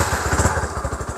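A 225cc classic-style custom motorcycle fitted with a bottle exhaust runs close by, giving a loud, steady, rapid thumping engine pulse.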